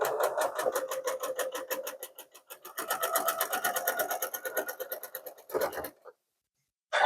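A sewing machine stitches a Flying Geese Trees quilt block, its needle hammering in a fast, steady mechanical rhythm that slows and picks up again for about six seconds before stopping, with no talking.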